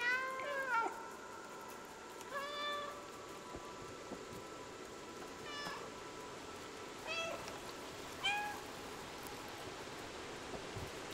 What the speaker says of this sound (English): Oh my god, everybody's meowing!